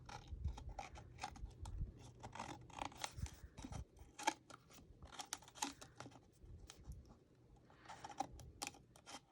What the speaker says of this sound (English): now we're just going to take our scissors and trim around this